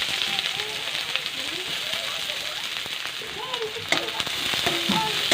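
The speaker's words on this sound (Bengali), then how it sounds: "পেঁয়াজটাকে লাল লাল করে ভেজে দিই" Onions frying in hot oil in a wok, a soft continuous sizzle and crackle running under a voice as she talks throughout.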